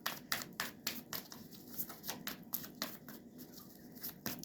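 A deck of tarot cards being shuffled by hand, a run of quick papery riffles and soft slaps in uneven bursts, close and fairly quiet.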